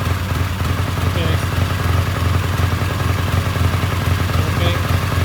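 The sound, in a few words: Triumph T140V motorcycle engine running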